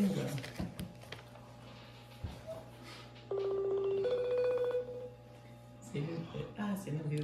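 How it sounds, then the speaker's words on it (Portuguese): A phone dialing a call, heard as a short run of bright beeping dial tones in the middle, after faint voices and background noise. Talk picks up again after the tones. "Já estamos ligando para ela."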